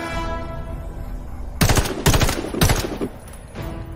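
Gunfire at practice targets in a Warface tutorial on Xbox, three loud bursts of rapid automatic shots after a quiet humming lead-in, close and punchy.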